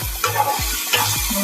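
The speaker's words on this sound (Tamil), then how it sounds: "தக்காளி நல்லா வதங்கிச்சு பாருங்க." Tomatoes and onions sauté in a pan for a chicken gravy, with a spoon scraping and stirring in regular strokes over a steady low sizzle, close and clear with no talking.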